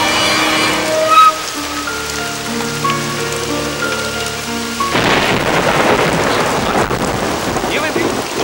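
Heavy storm rain pours down with thunder and wind, first under swelling music, then as a loud, dense roar of rain hitting surfaces from about the midpoint on.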